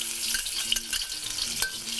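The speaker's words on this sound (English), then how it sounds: "Now that the oil is heated up, I'm going to add about 2 stalks of green onion." About two stalks of green onion frying in heated oil in a Chinese kitchen, a close, steady sizzle and crackle with a few brief stirring knocks and no talking.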